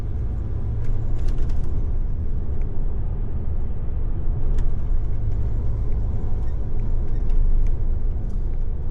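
A road vehicle drives past a stadium, a steady loud rumble of engine and tyre noise heard from inside the cab, with occasional faint rattles and a brief hiss.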